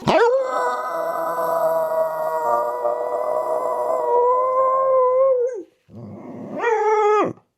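A pet dog howls in a long, sustained wail lasting several seconds, breaks off briefly, then lets out a shorter rising howl, close and loud with no talking.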